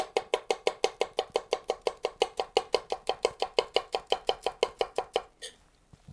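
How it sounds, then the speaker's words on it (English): A utility knife tap-chops on a cutting board in a fast, even run of about thirty crisp knocks, close and loud, ending abruptly before a short quiet tail. "knife that you can do a tap chop with"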